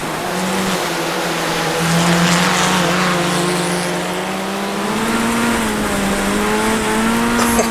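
A race car in the iRacing sim lapping a wet track in monsoon rain, its engine drone holding steady and rising slightly through gear changes, loud and continuous with a steady wash of noise and no talk.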